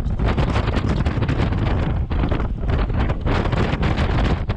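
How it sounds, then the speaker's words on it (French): Strong wind roars steadily across a sailboat at sea during an offshore race, heavy buffeting gusts filling the whole clip with dense noise, loud and continuous with no voices. "Le vent qui change tout le temps, le bateau qui s'emballe et qui tape hyper fort dans les vagues"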